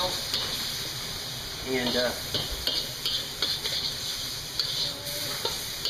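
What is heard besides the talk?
stir frying lobster with salt, garlic and oil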